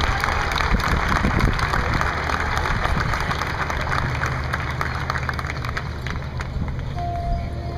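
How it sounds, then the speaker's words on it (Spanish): Applause and crowd noise from spectators at a field hockey medal ceremony in Argentina, a steady dense wash of clapping lasting throughout, with background voices mixed in. "Un fuerte aplauso para ellos."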